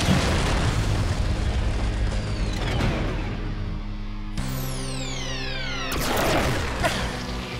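Cartoon blast attack from a Power Rangers Dino Fury episode: a loud booming explosion, then sharp whooshing energy bursts with descending tones, layered and continuous throughout.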